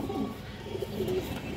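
A pair of brown-necked pigeons cooing nearby, a brief low murmuring call over a soft steady background, no speech.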